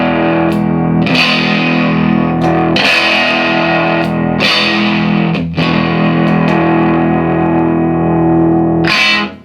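Electric guitar, a Telecaster Thinline in the pickup position next to the bridge, plays loud sustained chords through a driven Matchless amp with a slightly hollow tone, struck about five times in a steady rhythm with no talking.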